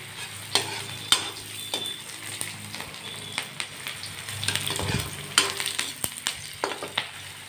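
Chopped onions frying in a pan for a spicy fish dish, a steady sizzle broken by repeated sharp scrapes and clacks of a spoon stirring against the metal, close and fairly loud.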